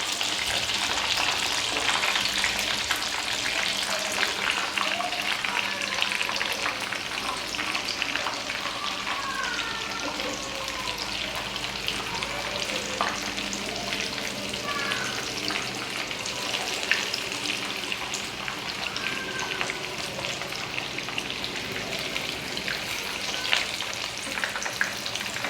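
Rohu fish croquettes frying in oil over a medium flame, a steady dense sizzle and crackle running continuously with no talk.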